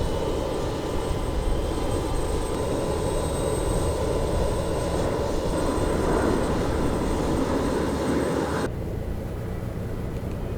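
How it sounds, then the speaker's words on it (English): The auxiliary power unit of a BAe 146 airliner runs in the X-Plane 11 flight simulator, a steady, loud mechanical whine and roar with a tonal hum that drops off sharply near the end, and no voices. "The APU power is now available, so we're going to start the APU air."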